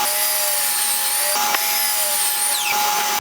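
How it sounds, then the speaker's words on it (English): A saw cuts through a 1x4 wood board in a steady, continuous rasp, close up, with a couple of brief changes in pitch as the blade works through the piece. "I cut 4 pieces of 1x4 to make the top supports."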